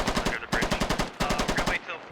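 Automatic gunfire in the tactical shooter Squad, loud close bursts of rapid rhythmic shots, three volleys separated by short pauses, with no talking.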